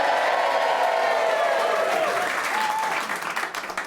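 A studio audience on a game show breaks into loud, sustained applause and cheering that holds steady, then thins out into scattered claps.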